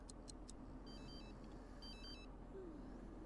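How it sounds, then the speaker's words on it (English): A phone rings in The Sims 3: a quiet electronic ringtone plays two short bursts of patterned high beeps over a low steady background hum, with no talk. "I can't tell whose phone is buzzing here"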